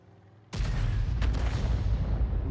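A tank cannon fires in World of Tanks with a sudden loud boom, its heavy low rumble and crackling tail rolling on for about two seconds over quieter battle ambience.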